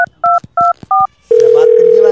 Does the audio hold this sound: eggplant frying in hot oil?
no